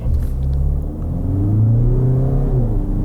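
A crossover SUV accelerating hard in sport mode, its engine rumbling and rising steadily in pitch as it revs up, loud and close from inside the cabin, with no talking.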